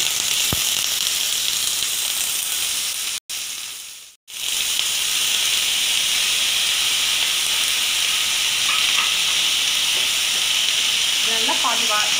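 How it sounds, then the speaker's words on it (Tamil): Chopped tomatoes and onions sizzle steadily in hot oil as they are sautéed for a Chettinad egg curry, a loud continuous hiss with two brief gaps near the middle and faint clinks toward the end. "இப்போ இதை போட்டு வதக்க போகிறோம்."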